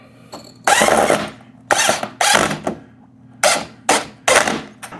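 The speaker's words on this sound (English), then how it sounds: "You also want to do your best to get the screw in straight." A screw is driven in while a shade anchor bracket is installed: loud, close bursts of a driver or drill whirring in short uneven pulses with brief pauses between them, and no talking.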